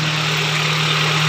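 A hydrovac truck engine idles at a raised, high RPM, a steady loud drone with a strong low hum running unbroken throughout, with no talk over it.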